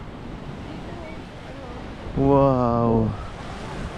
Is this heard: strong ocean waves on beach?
yes